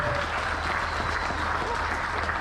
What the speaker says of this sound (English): So let's have a little cheer for Graham.